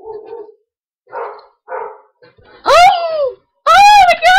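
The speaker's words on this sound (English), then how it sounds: "My dog's barking." A pet dog barks in a home, first a few muffled soft woofs, then two loud, sharp, close barks with a whining tone.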